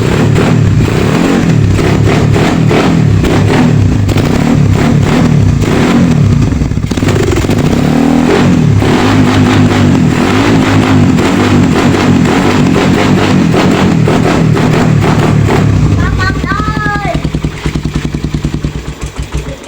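Carbureted Suzuki Raider 150 motorcycle engine, close and loud, revving repeatedly in rough, clattery bursts, then settling toward a lower idle near the end.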